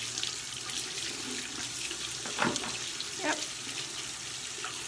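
Warm water runs steadily from a bathroom tap into a sink, a continuous close hiss with a couple of brief splashy swells and one short spoken word.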